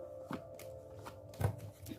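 Tarot cards are handled and shuffled at close range, giving a few soft, quick riffling flicks and taps against a quiet background.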